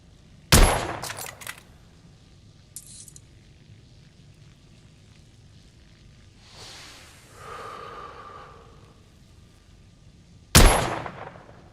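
Two sharp, loud gunshots from a firearm in the video game The Order: 1886, one near the start and another near the end, separated by quiet ambience, faint rustling and a brief mechanical whir.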